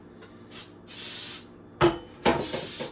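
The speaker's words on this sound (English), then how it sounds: "I'm gonna spray my pan" Several short hissing bursts of cooking spray onto a baking pan, two brief puffs followed by longer sprays and a couple of sharper ones, close by with no talking.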